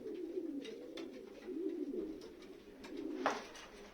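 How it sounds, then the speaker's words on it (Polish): A pigeon, a homing bird just returned from a long race, coos in soft low rolling phrases, close and quiet, with faint background clatter and no speech. "Tutaj mamy ostatniego gołąbka, który doszedł dzisiaj"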